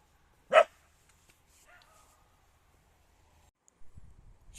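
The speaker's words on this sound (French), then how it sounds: "elle a aboyé, je l'ai en vidéo" A single sharp dog bark rings out close by, followed by near silence and a few faint low rumbles toward the end.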